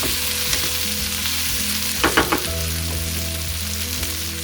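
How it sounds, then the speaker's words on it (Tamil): Fresh mint leaves going into a pan of cooked tomato for chutney, a constant close sizzle broken by a quick cluster of stirring scrapes midway, with no talk. "இப்போ இதில் புதினா சேர்த்துக்கலாம்."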